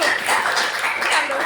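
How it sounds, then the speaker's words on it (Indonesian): A classroom group claps together in a brief burst of applause, close and lively, with voices mixed in. "Tepuk tangan buat kita semua."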